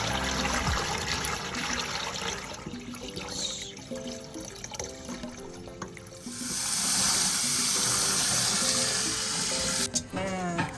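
Water pours off soaking soybeans being prepared for tempeh, a steady close splashing stream that swells louder in the second half before tapering off, with faint background music underneath.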